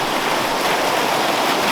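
A freestone stream running in the middle of winter, a steady broadband rush of flowing water close by, constant and unbroken with no voices.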